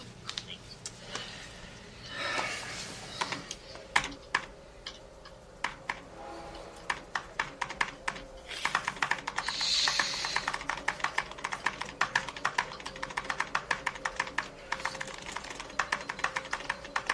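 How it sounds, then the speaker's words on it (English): Rapid clicking keystrokes on a computer keyboard, starting sparse then becoming a fast, steady burst of typing, heard close alongside background voices and soft ambient sound. "Just use the keyboard."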